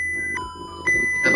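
A SCADA-controlled paint filling and capping machine sounds its alarm, steady electronic beeping tones that pulse several times over a constant industrial hum, close and fairly loud with no voices.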